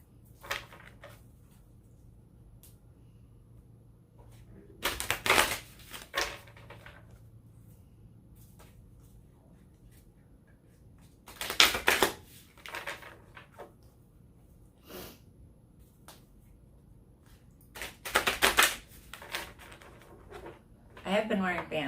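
A tarot card deck being shuffled in several separate bursts of papery riffling, each lasting about a second and spaced several seconds apart, close by with quiet gaps between them.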